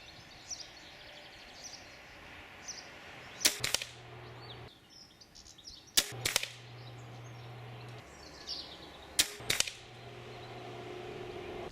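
.22 pellets fire from a Hatsan Galatian air rifle in three sharp, separate cracks spaced a few seconds apart, each followed by a short mechanical clatter, against quiet outdoor background.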